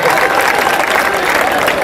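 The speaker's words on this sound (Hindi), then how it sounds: "एक बार जोरदार तालियां बजाए साहब मिलके" An audience at a Hindi comic poetry show claps loudly and continuously in dense applause, with no pauses.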